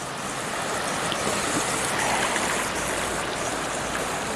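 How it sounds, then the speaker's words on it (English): A forest stream in Canada rushes downhill in a constant, close hiss of flowing water, unbroken and without speech. "Yeah, we got the water going down here."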